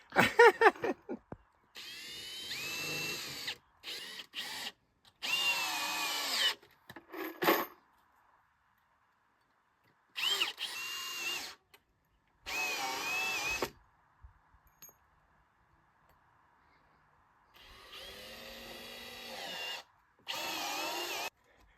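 Several bursts of a power drill whirring as it bores into wood, each run a few seconds long, separated by quiet pauses.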